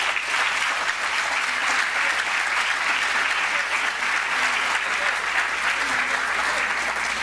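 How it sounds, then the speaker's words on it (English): An audience applauding a speaker at a CUEtalks event, sustained dense clapping from a full room that keeps steady for several seconds with faint crowd murmur underneath. "Please join me in a round of applause for Dr."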